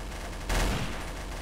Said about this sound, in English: Oh shit, someone's shooting. Someone's shooting.